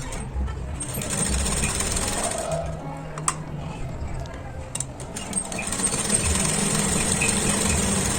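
A sewing machine running steadily as it stitches fabric for a baby girl's frock, with a continuous mechanical whir and a few sharp clicks, heard close.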